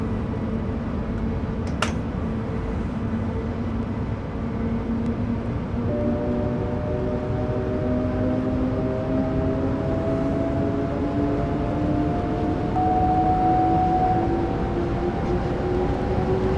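German electric train motor in Train Sim World 5 on a Stuttgart–Berlin run, a steady rising whine with layered tones climbing in pitch over a constant rumble, no talking.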